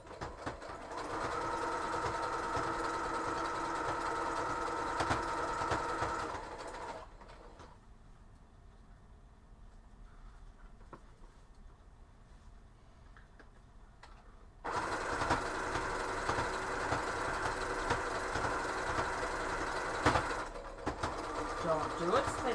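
A sewing machine stitches fabric in two loud, steady bursts of whirring with a quiet gap between them, and a voice talks during the pause.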